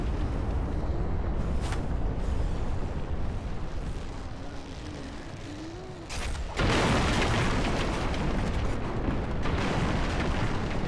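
Bridge destroyed in Dark Souls III: a low rumbling blast bursts in sharply partway through, then a loud, sustained crumbling roar with debris continues to the end, following a steadier lower rumble.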